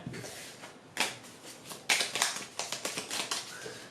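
A tarot deck is shuffled and cut, with close, crisp card snaps and riffles, a couple of sharper slaps, then a quick run of light taps near the end.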